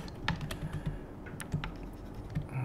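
Quick, light keystrokes on a wireless computer keyboard with a weak battery, tapping in uneven bursts close up in a quiet room.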